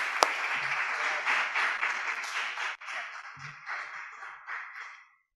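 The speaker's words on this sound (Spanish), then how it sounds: "Un aplauso." Audience applause at a talk on sound in audiovisual post-production, steady clapping that rises, holds for several seconds, briefly dips, then continues before fading out.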